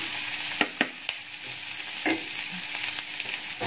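Young corn, carrots and meatballs stir-fried in a pan, giving a steady close sizzle with a few sharp clicks of a utensil scraping and stirring, no voices present.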